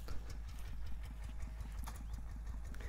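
A farm tractor engine idles with a steady low rumble and rhythmic knocking pulses, surrounded by faint clattering and scattered higher noises of fieldwork in rural Thailand.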